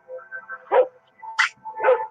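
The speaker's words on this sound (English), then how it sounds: "in the woods with a dog barking" A dog barking in the woods, a few sharp separate barks with short yips between them, each bark standing out clearly against a quiet background.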